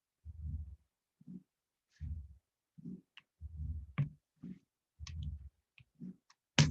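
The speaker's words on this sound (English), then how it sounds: "I've got a keyboard propped up on my laptop and it's hitting all kinds of buttons" A keyboard propped on a laptop pressing keys, giving scattered soft dull knocks and clicks at an irregular pace, quiet and close with silence between presses.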